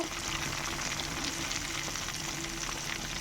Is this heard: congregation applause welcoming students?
no